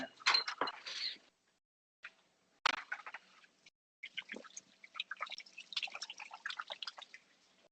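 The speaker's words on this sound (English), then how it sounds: "I'm gonna wash my hands." Hands washed under running water in a kitchen during a cooking class, with bursts of splashing and dripping that stop and start in short separate spells, close and without talk.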